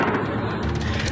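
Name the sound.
Israeli gunfire volley at a residential area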